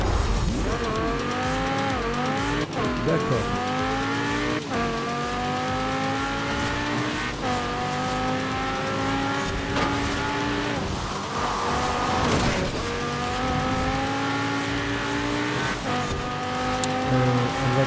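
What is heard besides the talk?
Lamborghini Huracan car racing in Forza Horizon 4 video game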